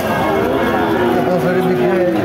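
A cow lows in a steady, drawn-out moo at the crowded Chougachha cattle market among bulls and calves, the call sustained throughout with the market's background murmur around it.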